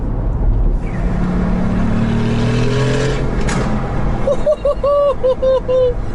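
A Nissan GT-R drives by on a windy London street, its engine a steady low rumble. Faint exhaust crackles may sit within the noise, and voices come in near the end.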